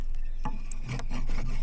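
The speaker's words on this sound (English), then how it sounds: "shave it down till it gets to about the right thickness, diameter" A machete blade shaving a length of wood down into a bow drill spindle, the stick wedged firmly in place; close, rasping scrapes come in several separate strokes, rough and dry, with no voices over them.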